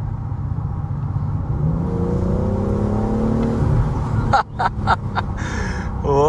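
A BMW M760Li 7 Series engine hums steadily from inside the car, its tone rising gradually as it accelerates, before a brief burst of tapping noises near the end.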